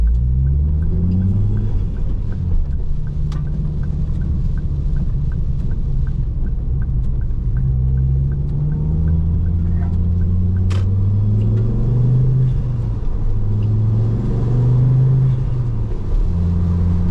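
Car engine accelerating hard through a Queensland roundabout, rising and falling revs marking several gear changes, loud and close with steady rumble throughout.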